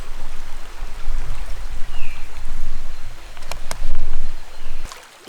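Footsteps wading through a forest stream in Kaeng Krachan, with steady splashing and churning water close by, a few sharp clicks partway through, and no talk.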